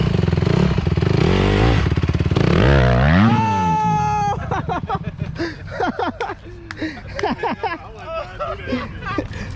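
A dirt bike engine revs loudly and rises in pitch as the clutch is let out, then settles into choppier, uneven throttle bursts while people talk and shout nearby.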